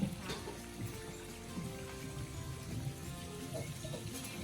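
Stream water flows through a bamboo channel in a Chiang Mai garden, making a soft, steady trickle close by, with small splashes now and then.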